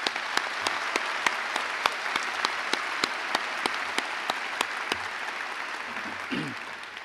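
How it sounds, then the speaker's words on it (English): Crowd applause at a university undergraduate commencement ceremony, a steady wash of clapping from a large audience lasting throughout, with a few sharper nearby claps standing out and no talking. "So a round of applause for facilities."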